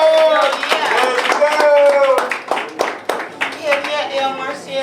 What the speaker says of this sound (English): Y'all put y'all hands together for